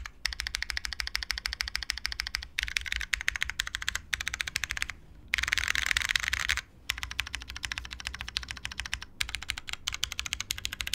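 Rapid, steady typing on a custom mechanical keyboard built from a Protagonist prototype, with soft keys and a spacebar that does not overpower the rest. Dense, even clacks continue close up for the whole stretch with only brief pauses.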